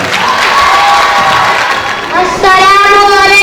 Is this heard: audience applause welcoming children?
yes